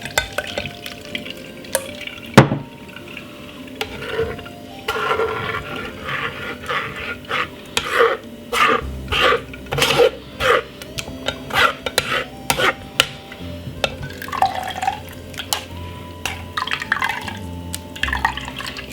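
Blended carrot and pineapple juice with ginger, lemon, lime and honey is strained, giving wet trickling and dripping with scattered clinks and stirring knocks of a utensil against a container, close by and without talk.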